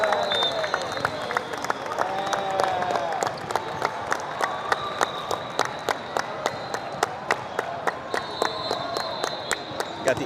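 Spectators at a 15u youth volleyball match, Left Coast against Tsunami VC, cheer and clap in a gym, with rhythmic claps and shouts over a crowd murmur and voices talking nearby.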